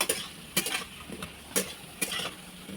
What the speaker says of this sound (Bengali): তার জন্যে তোমার ঢ্যাঁড়সটা ভেজে নিচ্ছি